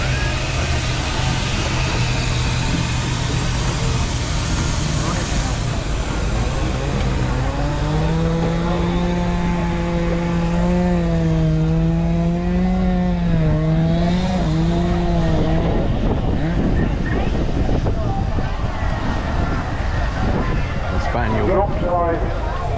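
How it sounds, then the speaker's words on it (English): A miniature steam wagon modelled on a Bowen steam lorry rolls past at a steam and country fair, a steady engine note rising and falling as it nears and draws away, heard under crowd noise and nearby chatter. "Steam wagon that's just gone past us, that's based on Bowen"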